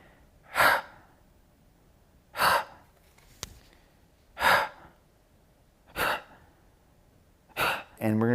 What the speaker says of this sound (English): just try to do a few sharp exhales by pulling the belly back